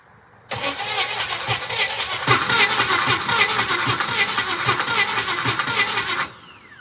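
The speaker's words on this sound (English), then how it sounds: "let's just give her a good long crank" A Regal car engine cranks over for a long continuous spell during a compression test, with the starter's rhythmic chugging loud and close from start to finish before it stops abruptly.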